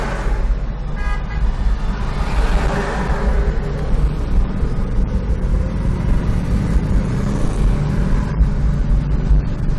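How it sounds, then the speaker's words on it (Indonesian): Steady traffic on the Maros–Makassar trunk road in Mandai, Maros, with cars and motorbikes rushing past close by near a junction, a horn tooting briefly near the start. "Ini mobil semua akan masuk Karyango."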